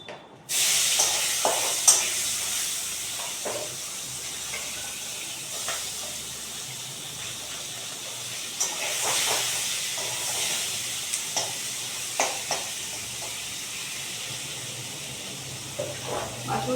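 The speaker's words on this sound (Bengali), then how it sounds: "তেলটার মধ্যে এবার মাছগুলোকে ছেড়ে দেবো" Singi fish being lowered into hot oil in a pan for a curry with potato and green banana, setting off a loud, steady sizzle that starts abruptly and carries on throughout with small pops and crackles, no talking.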